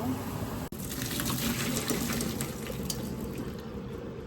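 Running tap water gushes over boiled pork as it is drained and rinsed in a kitchen, a steady close splashing stream throughout.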